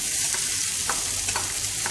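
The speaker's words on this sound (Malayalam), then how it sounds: "ഇനി നമുക്ക് 1 ടീസ്പൂൺ വെളിച്ചെണ്ണ ഒഴിച്ചതിന് ശേഷം ഇഞ്ചിയും വെളുത്തുള്ളിയും കൂടി ഒന്ന് ഫ്രൈ ചെയ്തെടുക്കാം" Ginger and garlic fry in a teaspoon of coconut oil, giving a steady close sizzle with a few soft stirring scrapes and no voices.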